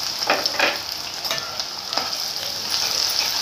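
Chopped onion fries in hot oil in a kadhai for paneer tikka masala, giving a constant close sizzle broken by soft stirring scrapes.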